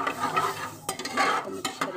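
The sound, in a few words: stirring boiled dal into spices in a pan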